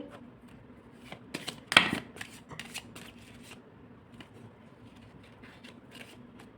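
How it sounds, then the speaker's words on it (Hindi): Tarot cards being shuffled and drawn by hand, close up: a quick run of papery riffles and flicks with one louder burst of shuffling, then softer scattered card slides and taps. "ठीक है, मैं 4 कार्ड्स और निकालना चाहूँगी।"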